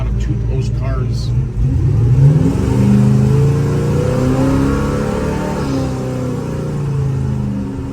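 A 1955 Chevrolet Bel Air hardtop accelerating from inside the car, its engine rising in a smooth, steady rumbling climb with a deep low drone, loud and close, while someone talks over it.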